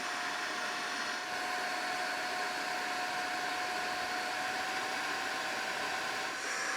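A TAB portable carpet and upholstery spot cleaner runs on turbo, giving a steady, close motor whir with a thin constant whine and an airy hiss throughout.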